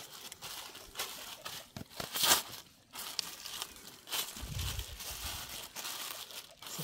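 Black plastic bag crinkling and rustling as a pile of pomegranates is poured out onto it, with irregular crackling bursts and soft rustles, fairly close and moderately quiet.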